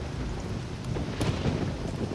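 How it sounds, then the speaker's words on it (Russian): Rain pours steadily in the video game Risen, a dense continuous hiss with a low rumbling roll of thunder swelling midway, loud and close, with no voices. "что-то тут тоже дождь пошел"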